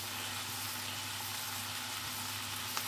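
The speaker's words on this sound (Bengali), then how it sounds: "আমি এখন কাঁচা লঙ্কা ফাটিয়ে দিয়ে দিচ্ছি" Whole green chillies sizzle steadily in hot oil in a pan while a Kerala-style chicken curry is being cooked, a constant close frying hiss with a faint low hum underneath.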